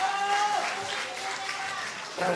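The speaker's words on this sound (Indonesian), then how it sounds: "Tepuk tangan" A crowd applauds at an Indonesian political gathering; the scattered clapping is moderately loud and fairly steady across the moment, with a voice briefly heard over it.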